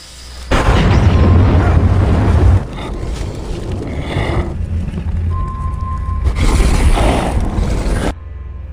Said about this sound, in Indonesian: menyebabkan kendaraan jatuh lalu meledak